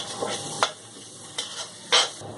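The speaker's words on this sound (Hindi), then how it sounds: "ये देखिए प्याज और तमाम मसाले बड़े अच्छे से फ्राई हो गए" Onions, garlic and spices sizzle in a hot pan with a steady hiss, broken by a few louder bursts as they are stirred and shifted.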